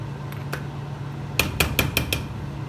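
Metal utensil knocks and scrapes against a pan while oxtail stew is stirred, a few sharp clinks followed by a quick rhythmic series of five taps, over a low steady hum.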